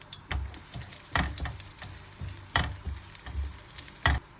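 Garlic and chili frying in a pan for a gulas (tiny fish) dish: a steady sizzle with repeated sharp clinks and scrapes of stirring, close and alone.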